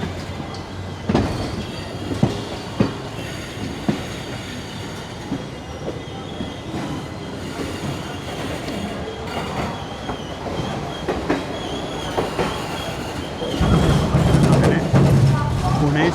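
The Koyna Express between Kolhapur and Pune rolls along the rails, heard from inside an AC chair car as a continuous rumble with sharp wheel clicks and clatter, growing louder near the end, with muffled voices in the carriage.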